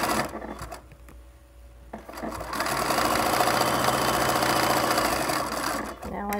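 Sewing machine stitching the bottom seam of a fabric pillowcase, sewn from cut edge toward the fold; the motor starts in short bursts, then runs in a steady, close, continuous whir for several seconds before stopping.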